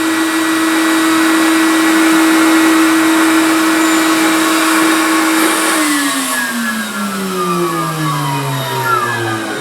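A vacuum forming machine pulling heated plastic gives a loud, steady motor whine that holds level, then drops and winds down in a descending pitch sweep, close and without talk.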